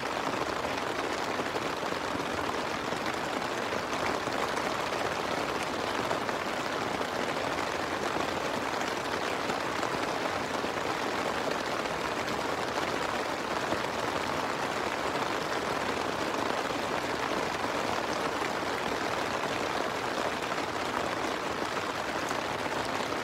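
Steady rain falls at a campsite with a campfire, a dense, even wash of patter that holds at a constant level throughout with no voices.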